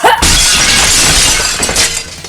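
Window glass shatters in one loud, sudden crash that sprays bright debris and keeps tinkling and scattering for about two seconds, with no voices present.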